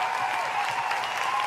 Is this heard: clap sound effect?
yes